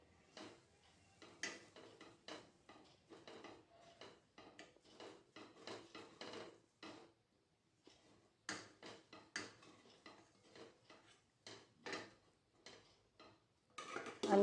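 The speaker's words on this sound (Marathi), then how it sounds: "बेसन मिक्स करून घेऊया" A spoon scrapes and clinks against a pan while roasted gram flour (besan) is stirred in with onion for Vidarbha-style zunka, giving irregular bursts of rapid metallic taps with a few short pauses.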